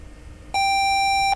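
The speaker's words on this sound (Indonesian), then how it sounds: "Berarti kita pakai buzzer" A buzzer in a simulated Arduino security-system circuit sounds one steady, loud electronic tone lasting just under a second, starting and stopping abruptly after a quiet lead-in.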